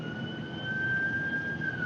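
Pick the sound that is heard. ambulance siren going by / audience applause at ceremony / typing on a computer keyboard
ambulance siren going by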